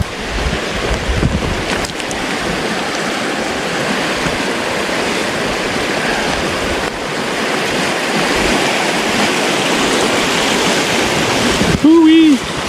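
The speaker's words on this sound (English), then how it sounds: "There's the creek." A creek flows on rural California land with a steady broadband wash of moving water, mixed with wind noise across the microphone.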